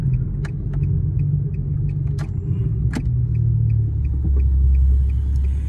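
A Nissan G35 coupe engine with an aftermarket Kinetix intake manifold idles with a steady deep rumble and a low throaty tone, close by, with a few faint clicks over it.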